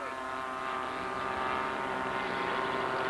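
An aerobatic airplane flown by Corwin Miller at the Top Gun Invitational drones steadily overhead, a continuous tonal engine and propeller hum that stays loud and even throughout.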